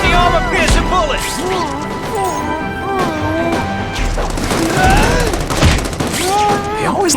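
Gunfire and crashing impacts during combat in The Amazing Spider-Man 2 video game, mixed under game voices and music with bursts and thuds scattered throughout.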